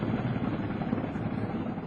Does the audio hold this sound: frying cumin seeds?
no